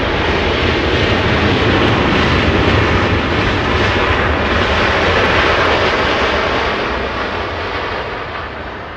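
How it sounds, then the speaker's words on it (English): A Southwest Airlines jet flies in from San Jose for arrival at Los Angeles International Airport, its loud, steady engine roar filling the scene before slowly fading toward the end, with no talking. "Southwest, this one flying in from San Jose, California"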